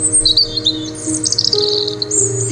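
High, bright bird chirps twittering repeatedly nearby over a low steady hum, with no voices.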